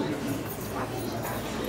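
A dog whimpers and yips eagerly over a doggy donut at home, short, whiny sounds close by mixed with a person talking.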